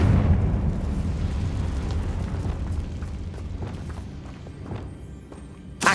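Rumbling magical blasts from the Confringo spell in the Hogwarts Legacy video game, a dense, loud wash of booming explosions and debris with a final thump.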